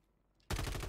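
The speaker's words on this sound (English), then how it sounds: "Someone's shooting near you." Sudden loud automatic gunfire in Call of Duty Warzone bursts in after half a second of near silence, a dense rapid stream of shots filling the rest of the moment.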